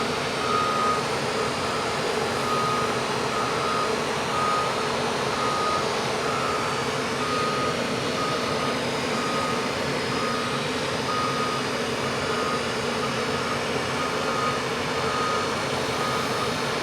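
CAT 16M motor grader backing up, its reverse alarm beeping in a steady, evenly spaced series over a continuous heavy diesel engine rumble, sustained for the whole stretch with no voices.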